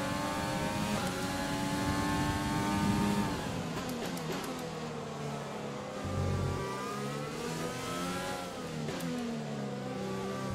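A Formula 1 car engine in F1 2020 screams at high revs, pitch rising and falling through gear changes and braking, a continuous loud whine from start to finish.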